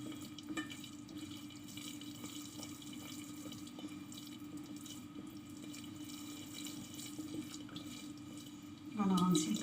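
Water runs steadily from a tap or glass into semolina for Moroccan harcha, a continuous close trickle that swells louder near the end as the last of it is added.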